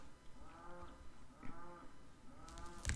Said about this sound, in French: C'est notre vache.